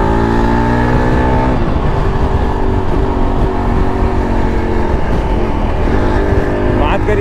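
A Yezdi Adventure motorcycle's engine revs up and accelerates, loud and close throughout, over steady road and wind roar, with a rider talking over it.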